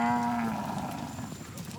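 A cow on a jungle-edge ranch in jaguar country gives a single loud, close moo that trails off gradually.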